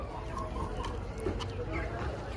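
A rooster on a farm with goats clucks softly in short bursts over a busy background, while a person talks nearby.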